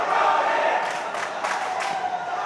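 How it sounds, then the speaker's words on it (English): A gymnastics championship crowd cheers and shouts while the Arizona team rouses it, a diffuse distant roar of voices with a few louder bursts of yelling. "You hear the Arizona guys in the background getting everybody hyped up"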